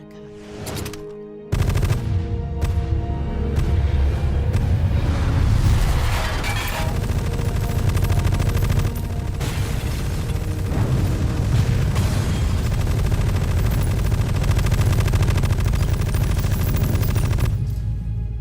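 Sustained gunfire and heavy explosive booms from the Metal Gear Solid video game, loud and dense for most of the stretch with a brief quieter lead-in, continuous rapid bursts layered over a low rumbling game soundtrack.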